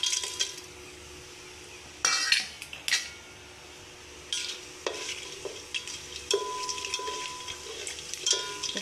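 Prawns frying in a hot pot for prawn biryani: crackling sizzle broken by sharp metal clinks and scrapes from stirring, with sizzle bursts growing busier over the last few seconds.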